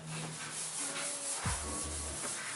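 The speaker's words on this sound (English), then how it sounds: "Using a red Scotch-Brite, this one's a little bit worn down. I think these things are right around 220 grit." A worn red Scotch-Brite pad, about 220 grit, scuffs the surface of a classic car fender during primer prep, giving a steady close-up rubbing and swishing texture with a brief low bump midway.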